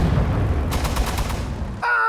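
Gunfire from units in the World War II strategy game Sudden Strike 4 at Stalingrad, loud rapid bursts of rifle and machine-gun shots over rumbling battle noise, ending in a short radio-style voice.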